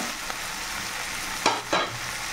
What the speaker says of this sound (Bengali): এখন আমরা এই আদা কুচিগুলো দিয়ে দেবো।